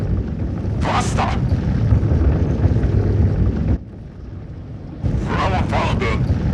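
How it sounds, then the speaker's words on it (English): Me 163 Komet rocket aircraft engine throttling up as a film effect, a loud, steady roar that briefly drops away before surging back, with voices talking over it. "More throttle and lift off."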